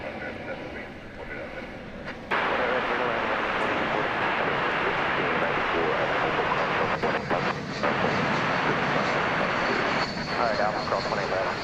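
An airliner at DFW Airport arriving from Oklahoma City produces a broad, steady engine roar that jumps louder after a couple of seconds and holds, with talk and radio chatter over it.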